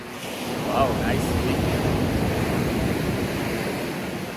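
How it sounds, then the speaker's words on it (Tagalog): Strong ocean waves roll onto an Australian beach, a loud continuous roar of surf mixed with heavy wind buffeting the microphone, with a faint voice briefly in the background. "ang lakas ng alon"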